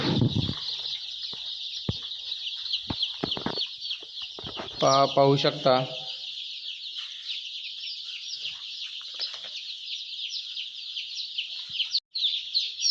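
Young country chickens in a brooding shed keep up a dense, continuous high cheeping chorus, with someone speaking briefly over it near the start.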